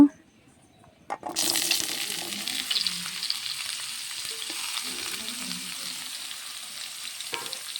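Young green jackfruit pieces drop into hot oil in a wok and burst into a loud, steady sizzle that continues evenly after a brief quiet start and a clatter.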